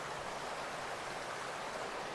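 A woodland stream in Belgium flows over a small waterfall shaped by a tangle of roots, a faint, even rushing hiss heard alone without voices.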